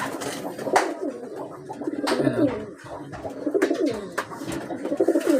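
Pigeons coo repeatedly nearby, soft throaty rolling calls overlapping in an uneven rhythm, with faint background noise and no clear speech.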